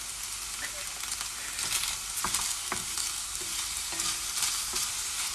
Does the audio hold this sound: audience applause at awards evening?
no